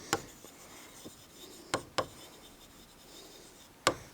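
Pen strokes scratch out a word on a surface, sounding as a few quiet, sharp ticks and scrapes spaced unevenly over a hushed background.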